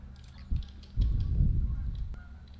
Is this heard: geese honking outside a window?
yes